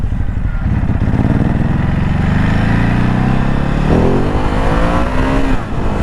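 2022 Ducati Hypermotard SP motorcycle engine running close and loud, the pitch climbing steadily through the gears with a rising rev near the end.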